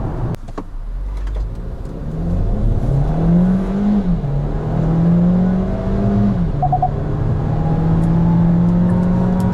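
A Kia Seltos 1.6 T-GDi AWD with a seven-speed dual-clutch gearbox cruises at about 100 km/h. Its engine drones steadily and climbs in pitch, then drops at a gear change, under constant road and wind noise, with no talking.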